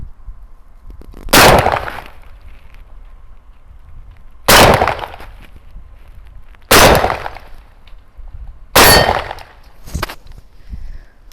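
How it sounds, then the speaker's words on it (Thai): Benelli Raffaello shotgun with a number 4 choke firing light low-velocity shells outdoors: four loud, sharp reports a couple of seconds apart, then a fifth quick one, each ringing briefly before fading into quiet background. "ไม่น่าเชื่อว่า กระสุนความเร็วต่ำออกทุกนัดเลยนะคะ"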